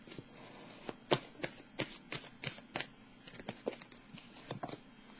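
Tarot cards being shuffled by hand in a quiet room, a soft continuous riffle broken by sharp crisp snaps at an irregular rhythm, close and fairly faint.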